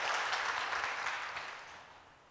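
A church congregation claps at a Sunday worship service to thank the worship team of musicians and singers; dense, even applause starts loud and gradually fades away over about two seconds.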